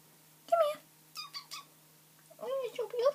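A pet cat meows at home in a few short, separate calls, near and moderately loud, with quiet pauses between them and a soft steady hum underneath.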